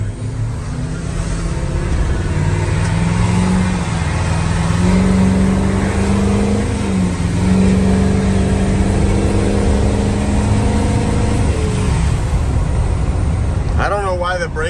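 Ford F550 truck engine rumbling and revving as it pulls away and accelerates, a steady loud low drone with rising and falling pitch throughout, with people talking over it.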